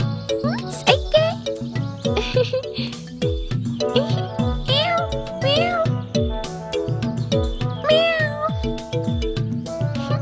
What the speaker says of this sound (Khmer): បញ្ជូនឆ្មានេះមកឲ្យយើងមក